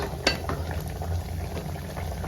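Dry fish and prawn curry, village style and spicy, boiling in a pot, bubbling steadily up close with a soft sputter near the start and no voices.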